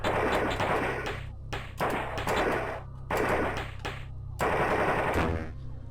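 Enemies in the video game Pathways Into Darkness fire in four rapid bursts of gunfire separated by short gaps, loud and up front, with no talking.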